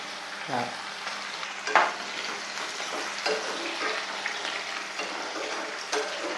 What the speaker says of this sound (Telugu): ఉల్లిపాయ వేగేటప్పుడు మూత పెట్టేస్తే స్టవ్ సిమ్లో పెట్టి మూత పెట్టేస్తే ఉల్లిపాయ మగ్గిపోతుంది